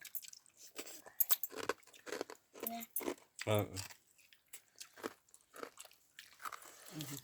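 Pakhala rice meal with side items being eaten at home, close soft crunching, biting and chewing sounds in irregular bursts, with people talking in between.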